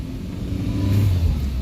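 A car engine revs hard as it climbs a steep, potholed road at night in hilly Murree, a steady loud rumbling drone that rises slightly in pitch, with no voices over it.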